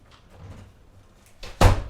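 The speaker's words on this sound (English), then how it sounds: "I'm just going to close the door here." A room door is pushed shut in a New York City apartment, with soft shuffling followed by a firm thud as it closes near the microphone.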